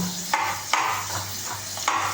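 A spoon stirs and presses onions frying in a pan for a low-fat French bean fry, giving soft scraping strokes with a few distinct knocks against the pan over a faint sizzle.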